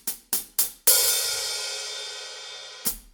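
Drum kit hi-hat played slowly as a double stroke on the closed cymbal, three short crisp ticks, then opened into a long bright sizzling wash that decays before a final closing chick, close and alone.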